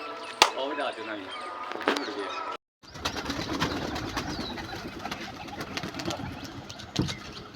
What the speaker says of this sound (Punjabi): ਕਬੂਤਰ ਉੱਡ ਗਏ